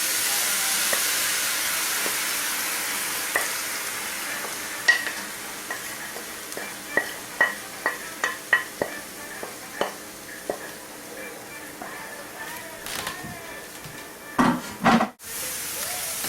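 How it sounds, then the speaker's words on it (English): Herbs frying in oil in a pan give a soft continuous sizzle, with a run of clicking spoon taps against the pan during stirring and a few louder scrapes near the end. "we're going to fry the herbs a little bit till it changes color"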